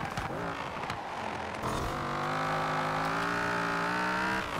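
Dodge Viper in the racing game Forza Horizon 4, its engine note rising and then holding a steady, sustained drone, with a brief shift or stumble partway before it climbs again at constant loudness.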